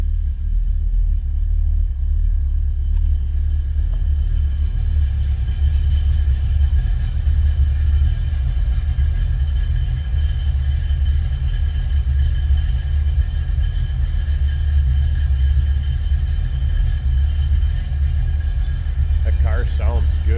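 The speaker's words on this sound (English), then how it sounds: "That car sounds good." A 1940 Pontiac two-door sedan street rod idles steadily with a deep, low rumble that holds constant throughout, with someone talking faintly in the background.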